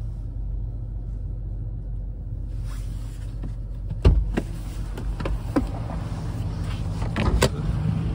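A 2013 Jeep Grand Cherokee Overland 5.7 sunroof panel motors open under a steady cabin hum and low rumble, with sharp clicks and thumps near the middle and end of the travel.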